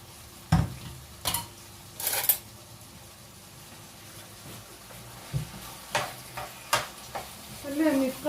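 Vegetables frying in a little oil in a pan, a soft sizzle broken by scattered clinks and scrapes of a utensil stirring against the metal.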